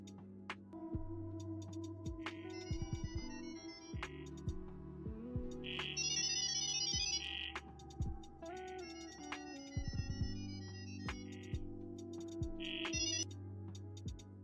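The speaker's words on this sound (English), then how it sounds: "What you just heard is called Gibblink Mode," AI voice assistants talking to each other in Gibberlink mode, a data-over-sound exchange: rapid bursts of chirpy, beeping tones in alternating phrases, like a modem or ringtone, over a low background hum, close but fairly quiet.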